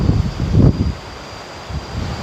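Gusty wind at Dairy Farm Quarry in Singapore on a hot day, buffeting the microphone in low rumbling bursts, close and moderately loud, with no talk.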